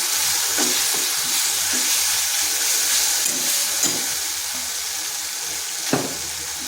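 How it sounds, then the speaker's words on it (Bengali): Spice paste of chilli, turmeric and cumin powder with ground peanut fries in a pan for a vegetarian potato and pointed gourd curry, a loud steady sizzle with soft scrapes of stirring and one sharp knock near the end. "সামান্য জিরে গুঁড়ো, আর দিচ্ছি বাদাম বাটা। ভালো করে মশলাটা কষে নিচ্ছি।"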